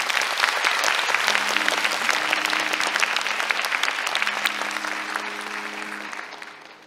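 Audience applause at a KBS Jinju lecture concert, with dense, loud clapping from a hall crowd that slowly fades, while sustained low musical tones enter beneath it.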